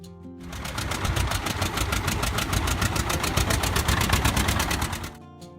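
A 1958–1961 John Deere 730 tractor engine runs steadily at close range, a loud rapid pulsing beat holding constant for about five seconds before cutting off abruptly.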